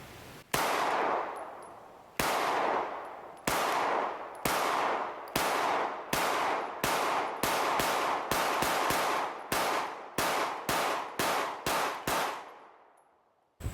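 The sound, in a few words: gunshots from an Echelon 4.0C pistol at the range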